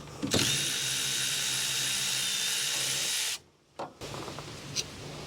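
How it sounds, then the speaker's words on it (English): Power tool loosening the brake caliper slide pin bolts on a 2011 Honda Pilot, a loud continuous whirring drill run of about three seconds that stops abruptly, followed by a brief second burst and faint handling clatter. "Now I'm going to loosen and remove these two slide pin bolts."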